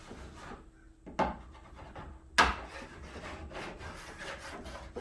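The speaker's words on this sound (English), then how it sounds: "I'm just gonna do a dry rub on it real quick." A block of wax rubbed dry across a snowboard base, giving steady close scraping strokes with a couple of sharper knocks, with no voices.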